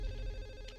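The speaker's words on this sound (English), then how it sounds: "Answer the fucking telephone. I'm trying. It's ringing off the hook" A telephone rings in Silent Hill 4, a brief steady electronic tone heard alone over a low background hum.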